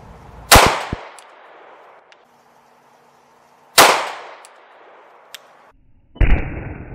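A .45 ACP pistol fired at a clay block from about four or five yards, three sharp, loud, close shots spaced a few seconds apart, each ringing off in a short outdoor echo.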